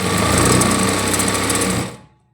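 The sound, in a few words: sewing machine stitching a blouse front panel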